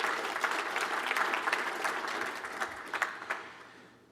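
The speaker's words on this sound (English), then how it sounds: "Can I ask you to give yourselves a round of applause" A conference audience at a manufacturing innovation event gives a round of applause, a sustained wash of many hands clapping in a large hall that thins out and fades toward the end.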